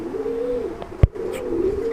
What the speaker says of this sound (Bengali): খুব সুন্দর ডিম বাচ্চা করানো কবুতর